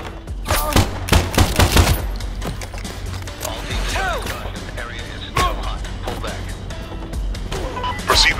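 Gunfire in the Crime Boss: Rockay City video game: a dense burst of loud overlapping shots and clanks early on, followed by scattered single shots and mechanical noises under game voices and a steady background score.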